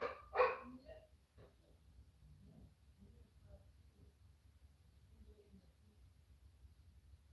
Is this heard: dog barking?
yes